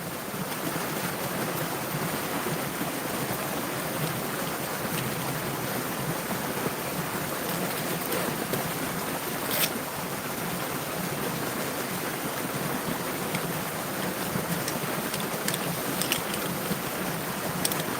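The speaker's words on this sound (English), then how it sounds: "now you can fall asleep to the river" Steady rushing river water flows without a break, a dense broadband wash that holds even and unchanging throughout, with no voices over it.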